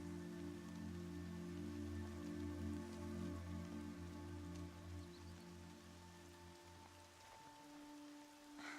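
Steady rain falls in the Horizon Zero Dawn video game, a soft continuous patter layered over sustained low musical drones, with the rain hiss fading slightly near the end.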